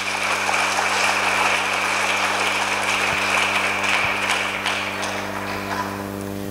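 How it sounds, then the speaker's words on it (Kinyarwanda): A church congregation applauds, a dense, even patter of many hands clapping together over a low steady hum. "Reka tuyikomere amashyi bikwiriye."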